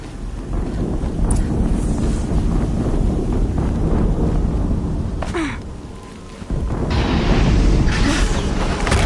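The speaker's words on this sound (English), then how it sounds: "Explosion." A muffled in-game explosion in Horizon Zero Dawn, a single deep boom briefly dipping the constant roaring wind-like background before the rumble swells again.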